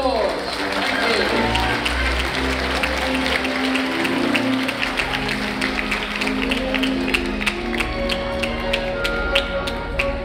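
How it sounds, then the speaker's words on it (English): An audience at a school's 15th anniversary musical claps in a broad, sustained round of applause, with tonal music or a held sound underneath and crowd murmur mixed in throughout. "Please give her a warm round of applause."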